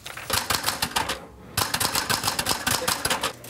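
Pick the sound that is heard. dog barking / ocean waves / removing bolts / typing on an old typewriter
typing on an old typewriter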